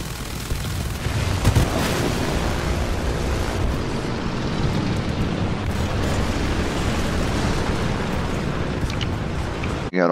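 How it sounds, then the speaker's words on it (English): Bombs dropped from a bomber exploding in the War Thunder air combat game, a dense rumbling roar of blasts and booms that fills the whole stretch, with a few sharper impacts near the start. "you can see how I drop the bombs"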